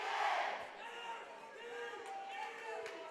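A student spirit crowd cheers and yells in a school gym during a varsity volleyball match, a sustained roar of voices with a commentator talking over it.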